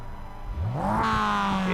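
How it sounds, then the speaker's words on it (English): A Mazda race car engine in the iRacing sim, Advanced Mazda Cup at Virginia International Raceway, revs up sharply in a rising sweep, then holds a steady, loud drone. "You hear the engine start to rev."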